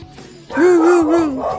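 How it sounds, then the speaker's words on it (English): A pet dog's single drawn-out yowling bark or howl, rising and holding for about a second, close and fairly loud indoors, with faint background noise before it. "Sorry, the dog's going crazy."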